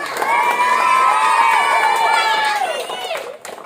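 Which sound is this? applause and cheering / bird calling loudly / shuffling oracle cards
applause and cheering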